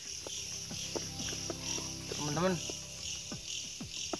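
Grasshoppers chirp krek-krek in a corn field at night, a dense, steady insect drone with a short bird-like call rising midway and a voice speaking briefly.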